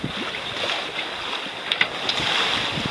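Gentle wash of calm sea water and light wind around a sailing boat crossing to Cape Verde, no big swell, a calm steady hiss with a few soft creaks.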